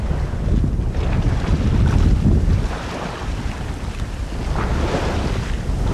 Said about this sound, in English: this wind from north-northeast is going to hold, but it'll be a beauty while it does